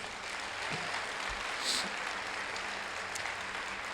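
Church congregation applauding during a worship service, a steady wash of clapping that holds at an even level throughout, with faint voices mixed in.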